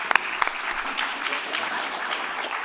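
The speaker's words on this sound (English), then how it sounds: "I trust the moderation of your applause" Theatre audience applauding during a stage performance of the musical The Mystery of Edwin Drood, a steady dense wash of clapping lasting throughout with a few sharper nearby claps at the start.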